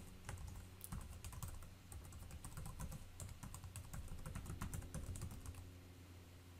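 Someone types a password on a computer keyboard, producing a steady, fast run of close key clicks with no talk.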